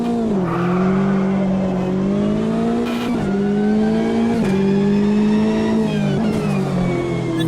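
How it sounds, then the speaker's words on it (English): A race car in the sim game Assetto Corsa Competizione roars at high revs, the engine tone dipping and climbing through several downshifts as the wheels lock up under braking; loud, steady and close, with no talking. "And then I locked up the wheels."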